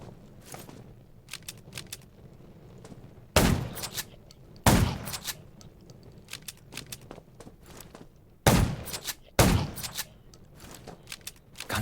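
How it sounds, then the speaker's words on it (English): Gunshots ring out in a zombie video game, arriving as a few loud, separated blasts and short bursts with quieter shuffling and footstep-like sounds between them. "Gunshots will attract more zombies."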